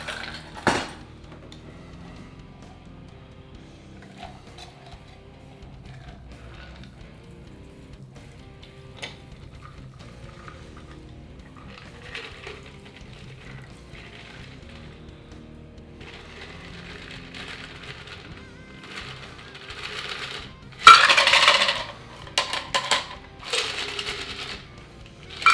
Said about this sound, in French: on remplit, mais là on blinde